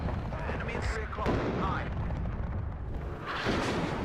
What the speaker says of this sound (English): One rocket artillery coming in again this time to try and kill the Conkers.